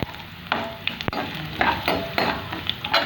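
Garlic frying in a pan with cumin seeds, with close, moderately loud sizzling broken by repeated stirring scrapes and clinks, one sharp knock near the middle, and no voices.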